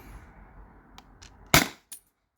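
T4E HDP50 air pistol firing a single shot through a chronograph, one sharp loud crack after a few faint clicks, followed by a short metallic tap.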